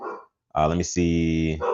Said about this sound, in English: And I know you guys can hear my dog in the background right now.